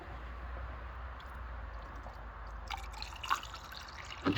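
Coolant is poured into the coolant reservoir of an LT1 engine, a soft liquid trickle over a low steady hum, followed near the end by a few faint drips and light clinks.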